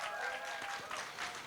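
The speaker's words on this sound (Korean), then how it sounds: "박수 한번 주십시오." Applause from the audience at a Korean political forum and public debate, a steady broadband patter of clapping that sounds moderately distant, with a sustained tone and some voice murmur mixed in.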